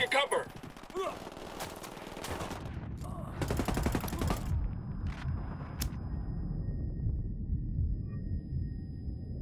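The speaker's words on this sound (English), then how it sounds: "Open the fire on these fuckers." Automatic and single-shot gunfire in a Ghost Recon Wildlands firefight by a church, with rapid bursts and cracks over a dense low rumble, loudest early on, then sustained fire fading toward the end.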